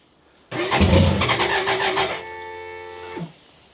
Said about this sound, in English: That motor's so noisy.